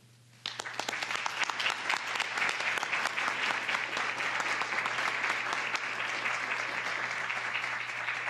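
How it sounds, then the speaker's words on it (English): Sustained applause from an audience at a school board meeting, starting suddenly and continuing steadily as dense clapping throughout, moderately near with no talking over it. "So we applaud you."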